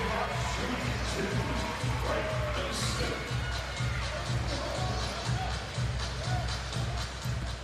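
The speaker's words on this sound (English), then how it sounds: "And listen to this KU crowd." Home-crowd noise at a Kansas alumni basketball game rolls on as a steady murmur with rises of cheering, partly under a commentator's voice, with occasional ball bounces.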